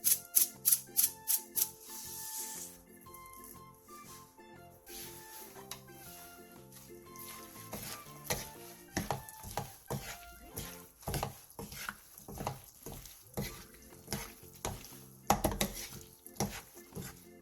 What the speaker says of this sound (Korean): 불을 끈 뒤 대파, 홍고추, 참기름 1스푼, 통깨를 넣고 가볍게 뒤적여 마무리해주세요